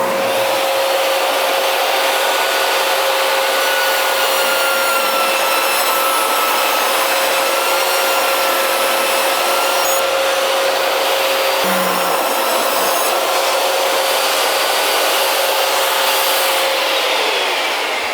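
A table saw rips two 2.5-inch strips from a wooden board, a loud continuous high whine of the spinning blade running steadily through the cut with a brief shift midway, and no voices.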